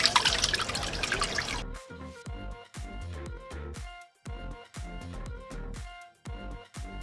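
Water pours out as washed goat intestine is strained, starting with a loud rushing gush that gives way to rhythmic sloshing and dripping, close by.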